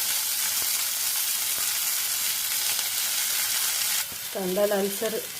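Chopped coriander sizzles loudly in a hot tempering with onion, tomato and ginger-garlic paste for a matki bhaji, a dense continuous hiss that eases slightly near the end as a short tonal sound cuts in.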